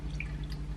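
Buttermilk runs through a funnel into a glass bottle as a faint, soft trickle with a few small drips, quiet and close, with no talk.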